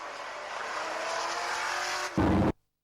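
Banger stock cars race in a 1998 Warton Stock Car Club meeting, a big Volvo among the last three runners, their engines a steady loud roar that swells into a brief heavy burst near the end before cutting off.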